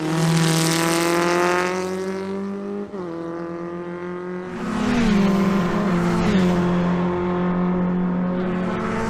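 Race cars at Kirkistown circuit scream past one after another, high-pitched engine notes swelling and falling as the leaders come through to lap a backmarker, loud and alone with no talk.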